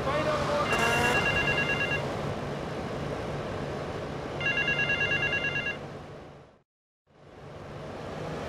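Payphone ringing in the game GTA Vice City, two bursts of electronic telephone rings over a steady background hum of traffic, followed by a brief dropout to silence before the ambience returns.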